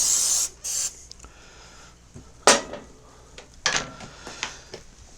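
Aerosol spray on the oily muffler port of an early-1990s Mastercraft riding mower: a loud hissing burst opens the clip, followed by a second shorter burst, then quieter clatter and a few sharp clanks from handling tools and parts nearby.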